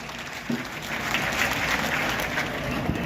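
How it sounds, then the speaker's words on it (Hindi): A large audience at a college annual function and award ceremony, Shankara College in Kukas, gives thunderous, sustained applause that stays full and even throughout. "जोरदार तालियां"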